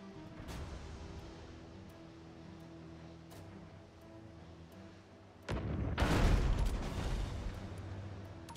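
A swivel gun on a sailing ship in the naval game Abandon Ship fires chain shot, a loud booming blast around the midpoint that rolls into a long rumbling crackle over a low, steady background drone.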